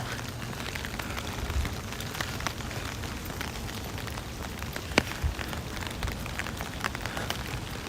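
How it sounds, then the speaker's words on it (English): Rain falls on a Brooklyn street after midnight, a steady fine patter with scattered sharper drips and splashes, fairly soft and even throughout with no voices. "I love the sound of the rain. It's beautiful."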